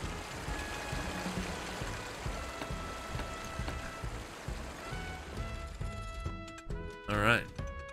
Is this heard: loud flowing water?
yes